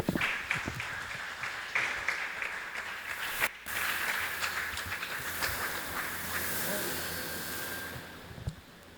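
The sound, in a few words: church congregation applauding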